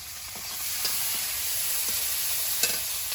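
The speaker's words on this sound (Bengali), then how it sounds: "তেলের মধ্যে দেবো একটা শুকনো লঙ্কা কালো জিরে রসুন কুচি পেঁয়াজ কুচি কাঁচা লঙ্কা" Dried red chilli, nigella seeds, chopped garlic and onion sizzle steadily in hot oil, a continuous close frying hiss with a few faint stirring scrapes and clicks throughout, no voices.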